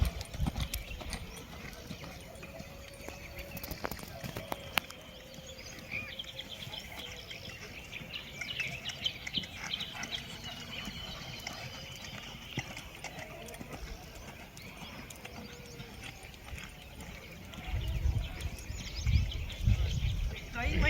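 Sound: horse hooves clip-clopping during horsemanship training

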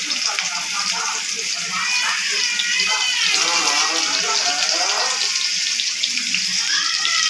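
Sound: onions frying in hot oil in a wok for Maggi

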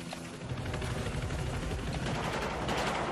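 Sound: helicopter and gunfire in the video game Battlefield 4

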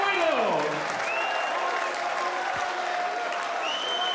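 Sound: crowd applauding and cheering at darts final

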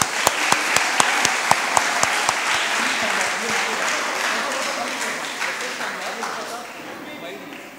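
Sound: audience applause for the winning team

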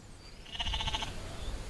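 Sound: sheep bleating

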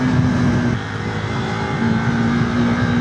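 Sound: sport motorcycle accelerating

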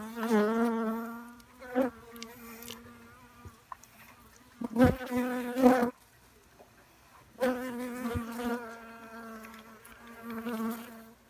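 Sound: bees buzzing

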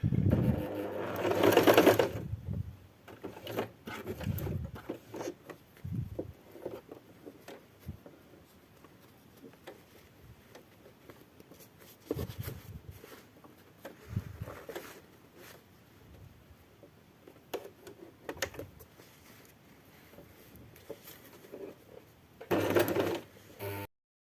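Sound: sewing machine stitching a seam on a fruit bag

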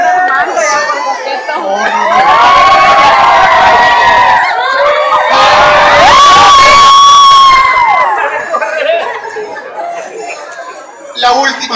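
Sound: crowd shouting and cheering

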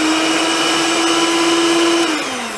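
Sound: electric mixer running, blades moving through cake frosting

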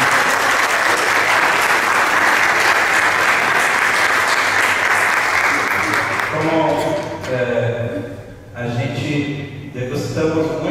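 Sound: audience applause

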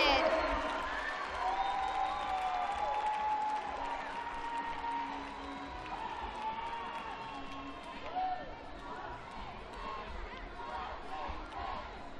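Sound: crowd cheering at gymnastics meet

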